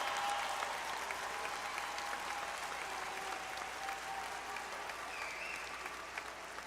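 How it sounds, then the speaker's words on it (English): Applause from a large commencement audience honoring military service members and veterans, a dense, steady roar of clapping that holds for several seconds and eases slightly toward the end. "applause."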